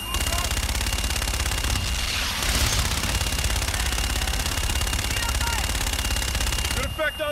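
A Call of Duty Infinite Warfare aircraft strafes on a gun run, a dense, loud, unbroken roar of rapid cannon fire that runs for several seconds before cutting off abruptly near the end.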